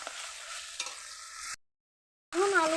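Boiled potatoes coated with spices and a splash of water are stirred in a frying pan for a fish curry, giving a steady scraping sizzle that stops abruptly into silence before a different tonal sound returns.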